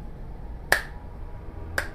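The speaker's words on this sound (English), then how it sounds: "Here's a slow clap." Two sharp, isolated hand claps about a second apart, close and crisp with a brief ringing tail, a deliberately slow sarcastic clap over a faint background hum.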